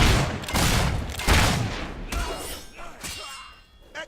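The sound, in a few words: gunfire in the video game Fable III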